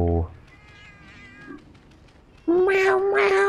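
A cartoonish cat meows twice in the Monster Hunter XX game, first a short high mew, then after a quiet stretch a louder, drawn-out bright meow close up; a soft voice is present earlier.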